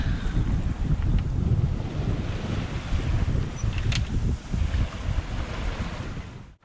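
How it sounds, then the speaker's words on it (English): Wind buffets the microphone and choppy sea waves slap steadily against a sailboat crossing the Bay of Biscay in about 17 knots of wind, a continuous loud rumble and wash with a brief higher creak near the middle. "the conditions have deteriorated a little. We've only got 17 knots, but it's pretty choppy being the Bay of Biscay"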